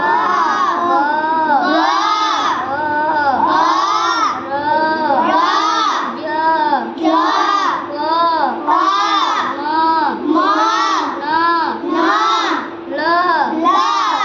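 A multigrade class of children chant letters loudly in unison, repeating syllables in a steady rhythmic pattern with short pauses between phrases.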